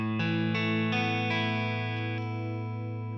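Electric guitar played through a Friedman Buxom Betty amp plugin with warm, gritty distortion, a series of sustained chords struck in succession and left ringing, loud and close with no talking.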